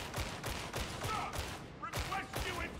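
Rapid bursts of gunfire in the game Warhammer 40K Darktide, a string of sharp repeated shots at a quick rhythm, moderately faint, with players talking over them.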